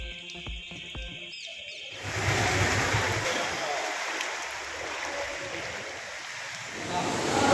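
Floodwater rushes through the streets of Tirunelveli after heavy rain: a steady, loud, broadband roar of flowing water that swells in after a brief tonal opening and carries on to the end.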